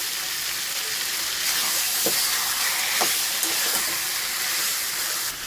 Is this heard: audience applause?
no